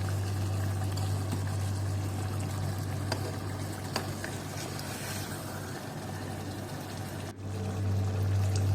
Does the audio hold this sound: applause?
no